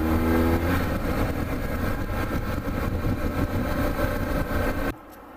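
A motorcycle engine runs loud and close on a winter ride at Tomales Point, California, holding a steady, throaty rumble with slight rises before cutting off abruptly near the end.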